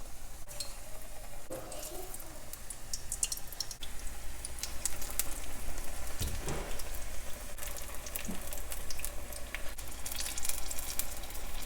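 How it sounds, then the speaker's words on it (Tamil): Ridge gourd bajji in batter hits hot oil in a pan, giving a faint, steady sizzle and crackle with small bubbling pops and no talk. "இப்போ கட் பண்ணி வச்சுருக்கிற பீர்க்கங்காயை பஜ்ஜி மாவில் டிப் பண்ணி சூடான ஆயிலில் போட்டுக்கலாம்"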